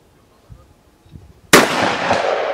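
A single sharp, loud shot from a Smith & Wesson .357 revolver at a shooting range, preceded by quiet rustling and followed by a long ringing decay.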